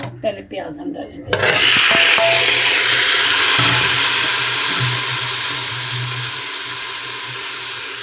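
Chopped onions hit hot oil inside a pressure cooker and start frying, a loud steady sizzle that begins abruptly and continues throughout, fading slightly over the seconds, with a low hum underneath and brief voice sounds at the start.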